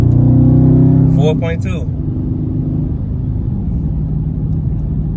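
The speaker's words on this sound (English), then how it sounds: "I was spinning them tires back there" Loud engine roar from a 2020 Dodge Charger Scat Pack on stock all-season Goodyear 245 tires, a rising rev that drops into a steady heavy rumble, with a voice speaking briefly over it.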